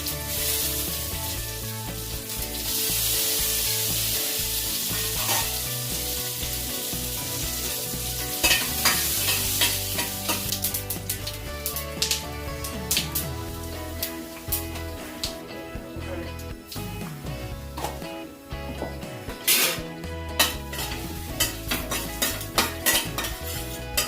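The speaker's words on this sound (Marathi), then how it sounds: "मस्त तडका दिला ना" Tadka of curry leaves, red chilli, fenugreek, cumin and mustard seeds sizzling loudly in hot oil, with steady crackle, spoon scrapes and clinks against the pan throughout, no talking.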